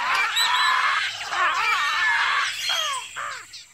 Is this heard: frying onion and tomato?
no